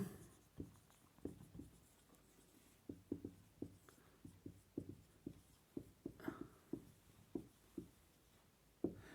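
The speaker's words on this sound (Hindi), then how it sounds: "जैसे मैं मान लीजिए सेंटेंस लिख रहा हूं" Pen or pencil scratching across paper as a sentence is written by hand, a series of soft close strokes in an irregular rhythm, quiet and isolated.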